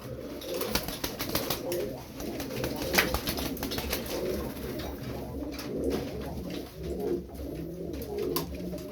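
Pigeons coo steadily in a low, throaty chorus, several birds overlapping continuously, with faint rustling and occasional sharp clicks.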